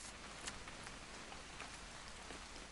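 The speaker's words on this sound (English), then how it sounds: "It's gonna rain the whole weekend, isn't it?" Rain falling in the video game What Remains of Edith Finch, a soft, steady hiss of rainfall with faint scattered drops, distant and quiet.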